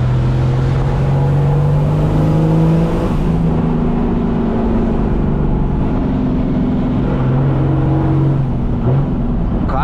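A Chevrolet Silverado's turbocharged MWM six-cylinder diesel, tuned to about 400 hp, revs and accelerates loudly up close, its engine tone climbing and dipping in sustained, droning pulls with no talking.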